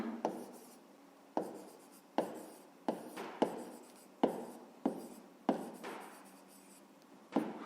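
A pen writes on paper while working a fifth-grade math exercise, producing close, scratchy strokes in short rhythmic bursts with brief pauses between, and no talking.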